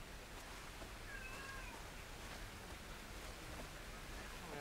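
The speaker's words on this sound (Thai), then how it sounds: "แมวมันงอแง" A cat meows in short wavering calls amid a steady background of wind or water noise, faint and fairly distant, with no clear speech over it.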